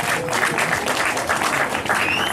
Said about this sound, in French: Là, on peut applaudir pour vous-même.